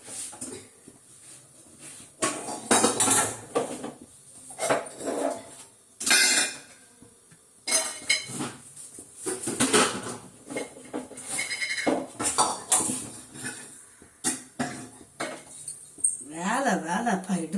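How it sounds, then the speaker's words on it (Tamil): A large metal kadai is handled on the stove while cooking bitter gourd kuzhambu, producing irregular clanks, knocks and scrapes of metal close by, separated by quieter gaps. "அதனால பெரிய கடாயாவே வச்சுக்கலாம்."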